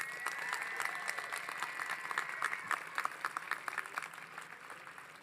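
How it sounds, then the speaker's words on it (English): Steady applause rises at a community college commencement for the class of 2022, a broad, somewhat distant crowd of many hands clapping continuously, with crisper individual claps emerging toward the end. "Let's give them a round of applause, shall we?"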